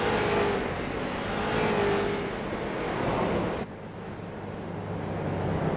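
Street stock race cars roll around the oval at Lanier National Speedway behind a pace car, a broad distant engine roar mixed with strong wind noise that drops away abruptly partway through, then builds again.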